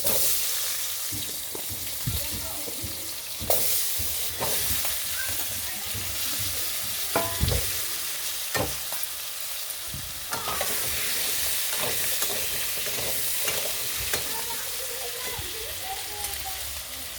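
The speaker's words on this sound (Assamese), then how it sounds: "এতিয়া মই আলুখিনি অলপ ফ্ৰাই কৰি ল'ম।" Long slices of potato sizzle steadily in hot oil in a pan, with stirring scrapes and clatters cutting through the constant frying hiss.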